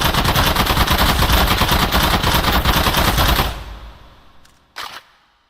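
Rapid automatic gunfire in the game Contractors, a loud dense stream of shots for several seconds that stops abruptly, then a single sharp report rings out in the fading quiet.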